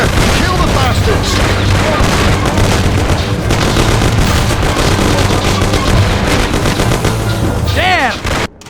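Dense, loud gunfire from a shootout in the game Mafia (2002), with rapid overlapping shots and booms running almost without pause before cutting off near the end, with shouting voices mixed in.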